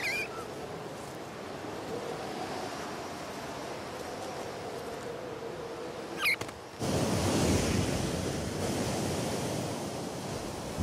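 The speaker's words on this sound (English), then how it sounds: "the cold fronts bring gale force winds" Gale-force wind roars with heavy surf crashing at sea, a steady broadband rush that surges louder partway through, with no voices.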